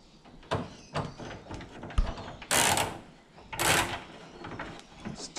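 A 10 mm ratchet tightens generic bolts in short bursts of clicking, separated by sharper metallic knocks and scrapes, close up and fairly quiet.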